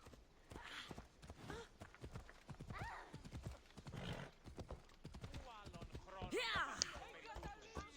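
Phobos the horse in Assassin's Creed Odyssey gallops with rhythmic, close hoofbeats and a brief whinny near the end, while someone talks over it.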